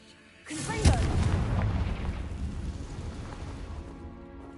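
A Confringo spell in Hogwarts Legacy detonates with a sudden deep boom, then a long rolling rumble of debris that slowly fades over several seconds.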